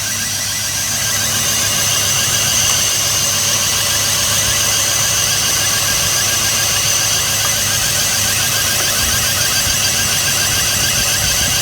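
A Jeep Liberty Renegade engine idles with a steady high belt squeal from a worn tensioner, loud, close and continuous over the low engine rumble.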